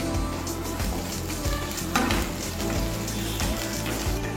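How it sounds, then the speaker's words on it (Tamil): Pepper, chopped ginger and curry leaves fry in hot oil in a pan over medium heat, giving a steady close crackling sizzle with scattered pops and stirring scrapes. "இப்போ இதை மிதமான சூட்ல பொன்னிறமா வறுத்தாச்சு"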